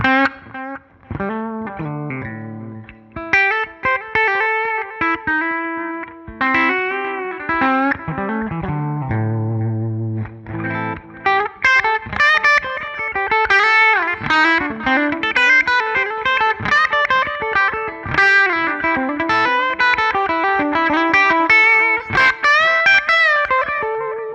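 An electric guitar played through a Line 6 POD Go plays a melodic passage through layered effects, with distortion and a shimmering, chorus-like tone, notes ringing and overlapping.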